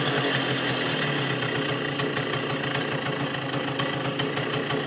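A Triumph moped engine idles nearby with a steady, rapid putter and slight knocking vibration, continuous and even throughout.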